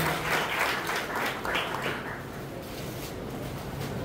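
An audience at a guru-puja felicitation ceremony claps for a bhajan singer. The applause holds steady and moderately loud for about four seconds, then thins a little toward the end.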